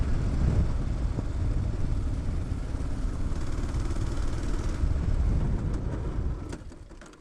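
A Kawasaki KLR650 motorcycle engine running rough near a lake campsite, its low rumble holding steady before sputtering out and dying near the end, leaving near silence.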